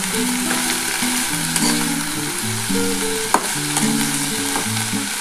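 Radish greens, touched with a little turmeric, are stirred and fried in a pan, giving a constant close sizzle with occasional spatula scrapes, over a soft melodic tune playing in the background.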